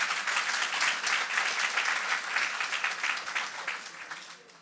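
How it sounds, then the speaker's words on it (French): A congregation at a French-language online worship service claps and cheers loudly and steadily, a dense wash of applause that tapers off slightly near the end. "Acclamons très fort le Seigneur."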